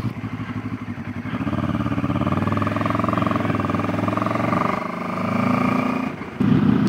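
A QJ Motor 700SRT motorcycle being ridden, its engine droning steadily with a rising and falling tone, close and loud with wind noise, a brief gear change near the end.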